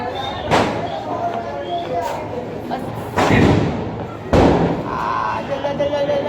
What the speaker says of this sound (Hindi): बॉम्ब देख रहे हो कितनी तेज फूटा है